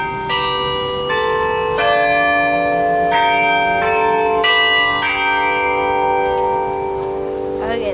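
Church bells ring from a bell tower in Perth, a dense peal of overlapping tuned strikes every second or so with long ringing hum beneath, loud and close throughout.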